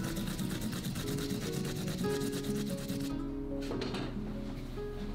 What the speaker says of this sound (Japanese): ニンジン、ニンニク、ショウガをすりおろします。